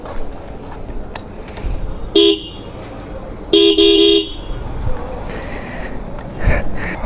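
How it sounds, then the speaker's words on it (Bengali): A newly fitted double horn on a TVS motorcycle honks in three short, loud blasts, the second longest, with quiet street background between them. "এই হলো হর্নের সাউন্ড।"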